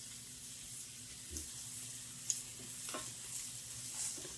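Steady, hissing sizzle of food frying in a pan, with a few soft clinks and stirring scrapes close by.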